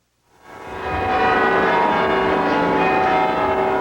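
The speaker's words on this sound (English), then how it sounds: "The sound of church bells heralded a moment the people of Charleston had been waiting for, a symbol of their survival." Church bells ringing in Charleston, a sustained, fairly loud wash of overlapping tones that swells in after a brief silence and rings on without pause.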